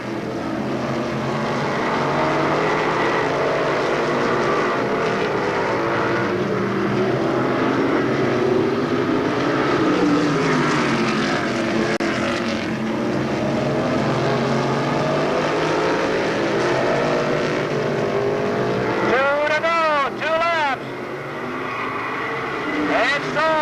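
Race cars roaring through a mini feature at Monadnock Speedway in 1993, a loud continuous engine drone with shifting pitch as cars pass, a race commentator talking over it throughout and a rising whine near the end.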